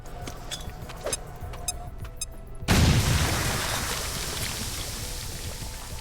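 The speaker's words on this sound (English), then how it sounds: "Grenade out." A grenade explodes in the video game XCOM: Chimera Squad, one sudden loud boom that hits after a stretch of quieter game ambience and then rolls on as a sustained, dense rumble.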